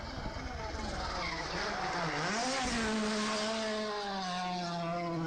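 A rally car screams along a stage with a high, sustained engine note whose pitch sweeps up and down through gear changes, loud and close with a continuous roar.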